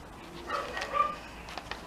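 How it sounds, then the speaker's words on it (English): A dog barks from another room indoors, a few faint, distant yips and barks coming through in short bursts against quiet background. "Please excuse the barking in the background."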